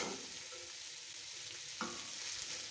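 Malabar spinach fruits stir-fry in a pan, giving a steady, close, hissing sizzle with a brief scrape of stirring partway through. No talking.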